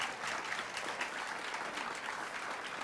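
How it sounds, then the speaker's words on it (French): Studio audience applause during a 1992 Quebec television dating game show, a steady dense clapping that holds at an even level for about three seconds with no voices on top. "On applaudit."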